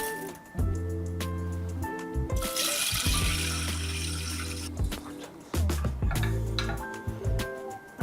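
Water splashes and runs into a container to soak peeled chestnuts, in bursts that fill up and stop, close and clear.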